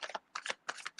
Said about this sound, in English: I'm gonna shuffle like 3-4 times